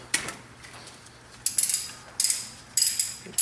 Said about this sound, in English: we're going to go ahead and loosen these bolts now